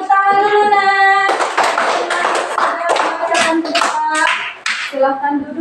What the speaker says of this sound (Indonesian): Beri tepuk tangan dulu, nak.